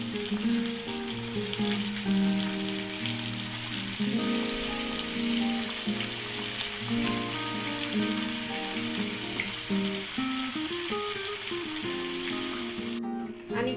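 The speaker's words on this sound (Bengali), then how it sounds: "আমি চিকেনগুলো নেড়ে চুড়ে দেব, দিয়ে ঢাকা দিয়ে কষতে থাকবো।" Chicken and onions fry in oil for biryani, a steady, rain-like sizzle with occasional stirring scrapes that runs unbroken until a brief pause at the very end.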